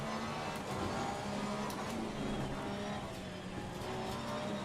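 Race cars in Assetto Corsa Competizione, a Porsche at Zolder, give a continuous engine drone with tire noise, steady and moderately loud throughout, with no talk.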